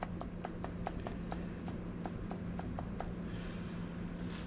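Loose play clunks in the Dana 20 transfer case of a 1969 International Scout with a worn seal, giving a regular train of sharp knocks, about four per second, over a steady low hum.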